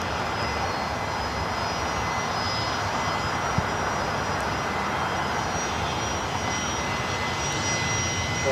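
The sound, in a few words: aircraft arriving at LAX from Van Nuys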